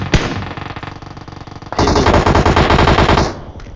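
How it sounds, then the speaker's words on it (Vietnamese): Automatic gunfire in the mobile battle royale game PUBG Mobile rattles out in rapid sustained bursts, loud and close, a brief pause giving way to a denser, heavier stretch of shots before it stops. "bắn căng thế."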